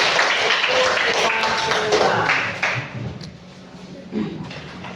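A classroom of students in an Islamic religious education lesson claps together in a loud, crowded burst that fades after a few seconds, leaving murmuring voices and light shuffling.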